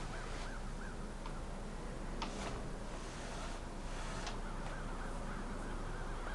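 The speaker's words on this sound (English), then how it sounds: "My crow buddies are out there." Crows cawing outdoors, several short hoarse calls repeated at a distance, faint against a steady background hiss, with no talking.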